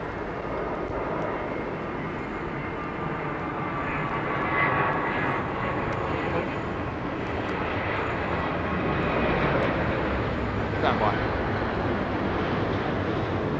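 A Ryanair airplane passing at London Heathrow Airport, heard as a loud, steady jet engine roar that holds for about fourteen seconds with slight swells, alone with no voices.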